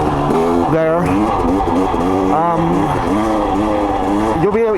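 A KTM TPI two-stroke dirt bike engine running steadily, a loud continuous buzz with rising and falling revs, while a person talks over it.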